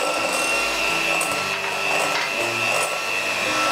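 Electric beater whipping egg whites as sugar is added bit by bit for homemade ice cream, a constant close mechanical whine with a scraping, rubbing texture that runs unbroken throughout.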